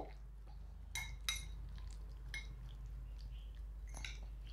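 A spoon mixes pav stuffing with sauce in a bowl, giving quiet, scattered clinks and taps against the dish over a low background hum.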